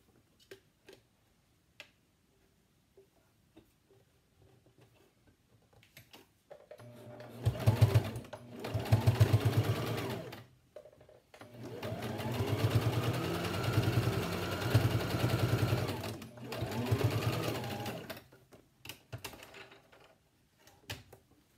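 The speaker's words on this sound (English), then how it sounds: "I'm going to run a second stitch about 1/4 inch away from there." Home sewing machine running a second line of stitches through a four-layer washable fabric face mask with a nose piece, in several steady motor bursts with short pauses, loud and close, no talking.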